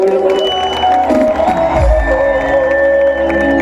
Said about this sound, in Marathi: जर त्यांचं नृत्य आवडलं असेल तर जोरदार टाळ्या वाजवल्या.